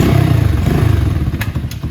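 A Venom motorcycle engine rumbles loud and close with a rapid, pulsing exhaust note and some mechanical clatter while revving through gear shifts, briefly easing off near the end.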